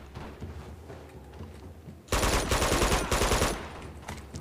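Sniper gunfire erupts in the Uncharted 2 video game after a couple of seconds of low background ambience, a loud, dense burst of shots lasting about a second and a half before easing back.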